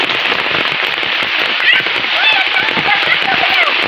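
Rain falls steadily onto surfaces outdoors in a rural Bangladeshi setting, a thick, constant patter close by, with faint voices and a few brief animal-like sounds mixed in.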